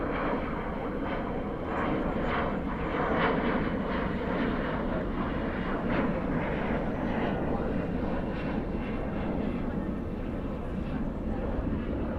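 A Finnair airliner taxiing at DFW airport at night, its engines giving a steady, broad roar that holds level throughout, with a faint voice mixed into the continuous rumble.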